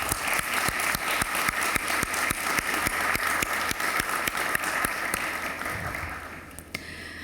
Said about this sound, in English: have a clap for all of your support that you did and done for us,